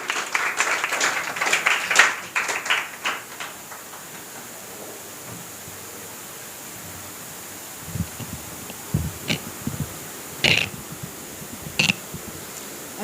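Audience applause at a school confidence-building program, a brief burst of clapping at the start that fades within a few seconds, followed by quieter scattered sounds and a few isolated louder knocks.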